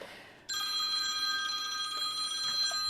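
A phone rings with an incoming call, a sustained electronic bell-like trill that starts abruptly and continues steadily at moderate loudness with no talking over it.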